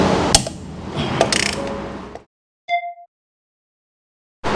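A ratchet works loose a threadlocked screw on a Brembo brake caliper with a burst of quick clicking, then a single sharp metallic clink and silence.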